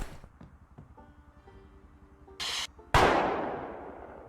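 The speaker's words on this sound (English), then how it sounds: "Ooh, another gunfire." Gunshots ring out in the zombie survival game Project Zomboid, a short burst followed by a single sharp, loud report that decays with a long echoing tail, after faint clicks and quiet game sounds.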